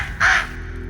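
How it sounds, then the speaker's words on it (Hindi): A crow's caw used as a voice effect in a Hindi fantasy TV series, one short harsh call rising loudly over a low background hum. "बेताल, अब अगर आप चाहते हैं कि आपकी आवाज हमेशा के लिए कौवे जैसी ना रहे तो आप एकदम शांत रहेंगे।"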